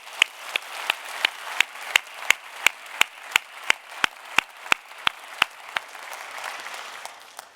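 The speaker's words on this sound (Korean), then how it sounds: "함께하지 못한 우리 동역자들을 위해 응원의 박수를 한번 보내드리십시다." A church congregation applauding during a Sunday service, heard as sharp, evenly spaced claps in a steady beat that soften and blur into a faint crowd wash toward the end.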